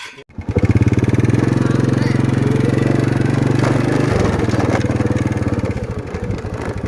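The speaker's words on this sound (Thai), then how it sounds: "กำลังจะขี่รถไปเที่ยงนา" A motorcycle engine runs steadily and loudly on a ride out to the rice fields during the harvest season. Its close, even drone holds throughout with slight shifts in revs.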